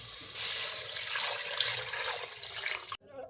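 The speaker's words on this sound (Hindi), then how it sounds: "अब हम इसमें 4 कप पानी शामिल करेंगे।" Four cups of water pour into a pressure cooker for chicken vegetable soup, a steady, close rushing splash that runs for about three seconds and then stops abruptly.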